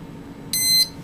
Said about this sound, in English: plug it in, you hear a beep.